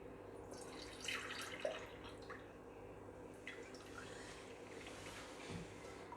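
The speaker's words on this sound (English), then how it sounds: "we're going to take this milk that the bread was in and just strain it" Milk that bread was soaked in, poured through a strainer into a bowl, giving soft intermittent trickling and dripping with a few light clinks, fairly quiet and close.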